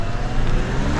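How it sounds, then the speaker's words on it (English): A Mazda CX-90 with an inline-six engine accelerating hard from a full stop, a loud, sustained engine roar heard steadily without speech. "Stomp on the gas."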